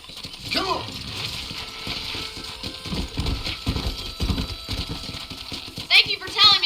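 Horse hooves clip-clopping in the Red Dead Redemption video game while herding cattle at a cow pen, steady thuds running under continuous talk and game background sound.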